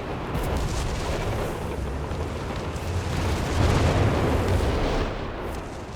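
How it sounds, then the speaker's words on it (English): Artillery barrages in a Company of Heroes 3 battle roll on continuously: dense, overlapping booms and rumbling blasts with no talk, swelling louder toward the middle of the stretch. "The artillery's just going after anything right now."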